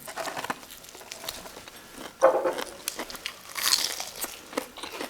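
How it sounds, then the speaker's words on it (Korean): Close, crisp crunching bites and chewing of fried chicken in a crunchy corn-crumble batter, irregular bursts of crackle over quiet background with no talking. "씹는 소리 들리시죠? 바삭바삭함이 확 느껴집니다."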